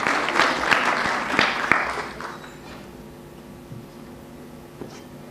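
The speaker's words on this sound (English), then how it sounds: "Can we give a round of applause for our 4 panelists" A conference audience applauds panelists at a nursing simulation event, with dense clapping that is loud at first, then thins out and fades to a quiet room by the end.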